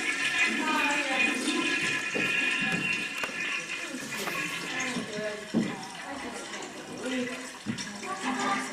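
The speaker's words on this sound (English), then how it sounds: "We're getting ready to flush." A toilet flushing in a church setting, water rushing and gurgling through the bowl for several seconds, moderately loud, with voices talking over it.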